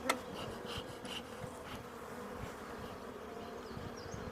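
A soft, steady buzzing of many honey bees at an opened hive hums throughout, fairly close, with brief louder passes of individual bees.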